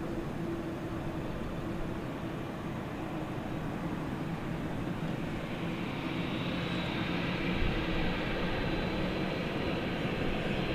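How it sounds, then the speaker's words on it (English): American Airlines heavy jet taking off at DFW bound for Brisbane, a broad distant engine roar holding steady and swelling slightly louder partway through, with no talking. "So the Brisbane flight is cleared for takeoff."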